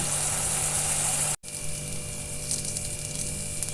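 A spice paste of tomato, green chilli and ground coriander, cumin, chilli and turmeric with sugar and salt sizzles in a pan, a steady bright hiss with a short break, close and alone.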